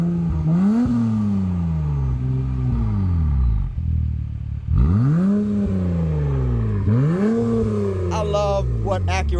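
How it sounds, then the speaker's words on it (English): An Acura MDX fitted with a full turbo back exhaust revs loud and close in four sweeping blips that rise and fall back to idle, with a brief lull midway and talk at the end. "the first thing we're gonna do is a rev"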